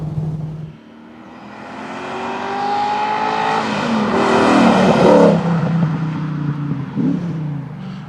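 A TVR Chimaera 500 V8 accelerates hard, its engine note rising steadily in pitch and volume through the gears with a rich, loud roar and a brief dip before building again, close by and without talk.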